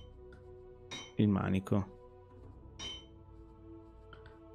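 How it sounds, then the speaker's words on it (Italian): A hammer strikes metal at a forge in Ironsmith Medieval Simulator, giving a few spaced, ringing metallic clinks that hum briefly after each hit, with a short spoken word between them. "andiamo a dargli due martellate"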